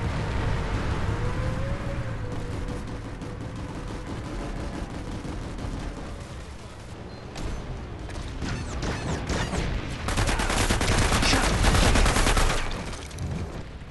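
Weapon fire in the video game PlanetSide 2 comes as dense mechanical bursts over busy game noise, rising to a loud rapid volley toward the end.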